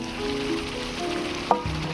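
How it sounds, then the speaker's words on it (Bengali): Fried potatoes tipped into a pan of chicken aloo kosha, giving a steady, close crackling sizzle throughout, with a brief clatter near the end as the pieces land. "এবারে দিয়ে দিচ্ছি ভেজে রাখা আলু"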